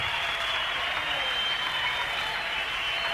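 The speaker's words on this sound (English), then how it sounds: "Boy, we got some hand clapping foot stompers here." A concert crowd at an early-1970s show claps in a dense, continuous roar, steady and fairly loud with no distinct stomps standing out and no talking.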